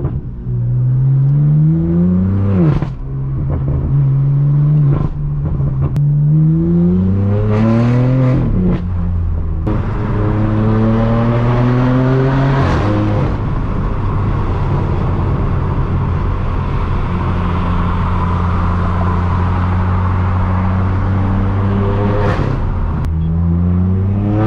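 Straight piped BMW M4 F82 driving on Southern California roads: a loud, raw exhaust roars through repeated rising revs and quick gear shifts, then settles into a steady droning cruise, no talking.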